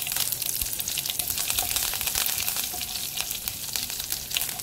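Black mustard seeds, carom seeds and curry leaves fry in hot oil while being stirred, a steady dense sizzle and crackle with faint scraping running throughout, no speech.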